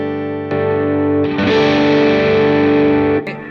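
Electric guitar through a Browne Protein Dual Overdrive pedal on its green overdrive side, a sustained chord followed by a fuller, gritty overdriven strum ringing loud and close, ending with a quick scrape.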